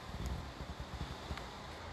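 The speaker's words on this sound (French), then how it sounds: "il y a énormément de vent chez moi" Strong wind buffets an outdoor microphone at home, a continuous rough rumble with gusty low thumps and rustling, no voices.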